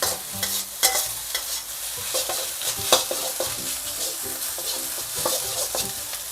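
Rice stir-fried with fermented tofu in a pan: a constant close sizzle broken by repeated scraping and tossing strokes of the spatula, in an irregular rhythm, with no talking.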